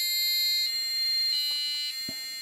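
A passive buzzer on an Arduino R4, set off by a PIR motion sensor, plays a short run of the Happy Birthday melody as piercing electronic tones that change pitch every half second or so, close and alone.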